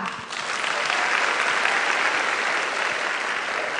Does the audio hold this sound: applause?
yes